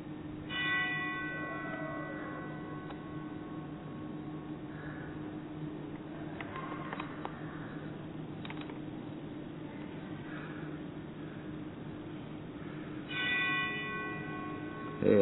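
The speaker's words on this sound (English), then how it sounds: "I hear a bell ringing." Bell rings inside a historical museum in Adrian, Michigan, sounding moderately loud with lingering tones near the start and again near the end, over a steady low room hum.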